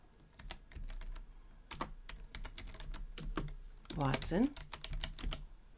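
Keys clatter in quick, uneven bursts as names are typed on a computer keyboard, a short stretch of speech breaking in around the middle of the run.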